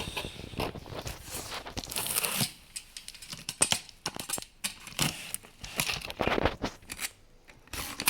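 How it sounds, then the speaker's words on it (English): A knife cuts open the packaging of refurbished Sony WF-1000XM3 earbuds, making close, quiet scraping, crinkling and tearing sounds in short irregular bursts. "I'll quickly use the knife here to get rid of this"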